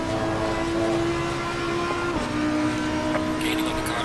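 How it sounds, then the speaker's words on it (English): A race car engine in a sim racing game at Silverstone holds a loud, steady high drone, dipping briefly at an upshift before droning on, with no voices over it. "I love this car, man. The sound of it."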